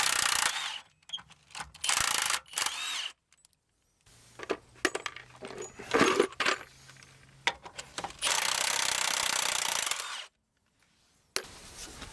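Bolts being removed from the bogies of an ASV PT100 track loader undercarriage, with bursts of ratcheting and clanking metal tool work separated by short pauses, close and moderately loud.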